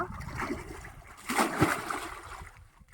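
Water poured from a pot in a village setting lands with a brief splashing burst and a short trickle, close and moderately loud, over a faint background.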